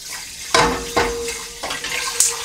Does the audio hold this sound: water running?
yes